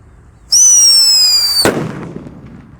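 A Whistling Thunder firecracker: a shrill rising whistle cuts off in a sharp bang, then a brief crackling tail fading out.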